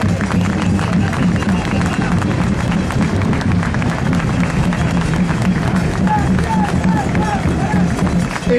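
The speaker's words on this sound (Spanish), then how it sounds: "Un aplauso grande a todos ustedes." Crowd applause in a legislature during a speech honoring football club supporters, a continuous dense rumble of clapping and murmuring voices that persists for the whole stretch.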